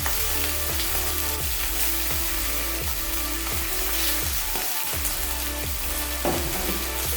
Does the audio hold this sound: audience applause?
no